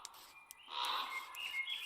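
Chickens in the Minecraft video game give short clucks and chirps, a few brief clicks first, then a steadier run of calls near and moderately loud, with no talking.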